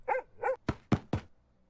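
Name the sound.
dog barking, sound effect in a story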